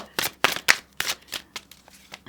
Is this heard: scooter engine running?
no